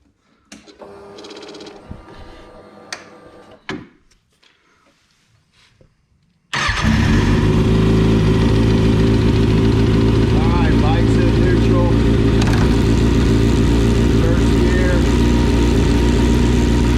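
A motorcycle's engine fires up abruptly after a few quiet clicks and handling noises, then settles into a loud, steady, close idle that runs to the end.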